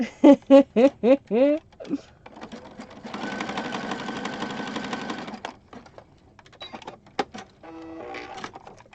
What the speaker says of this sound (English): I'm going to go to the sewing machine and we're just going to stitch right across this bottom area.